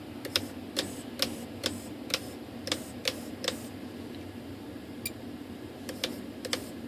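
Small servo on an Eflite Aero Commander UMX model plane driving the flaps, a faint series of quick ticking clicks at an irregular rhythm over a quiet hum, heard close.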